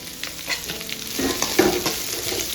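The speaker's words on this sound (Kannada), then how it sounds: "ನಾವೀಗ ಇದಕ್ಕೆ ಸಣ್ಣಗೆ ಹಚ್ಕೊಂಡಿರೋ ಈರುಳ್ಳಿ ಹಾಕ್ಕೊಳ್ಳೋಣ" Finely chopped onion dropped into hot oil in a pan for a bhindi dry curry, a short burst of frying sizzle with a light stir or two, close and moderately loud.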